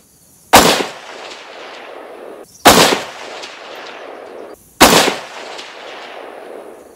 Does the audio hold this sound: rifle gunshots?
yes